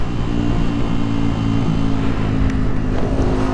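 A Yamaha WR 125 X motorcycle engine on overrun, throttle eased off and lightly blipped, giving a loud, steady close-up drone with a dense low rumble and slight roughness throughout.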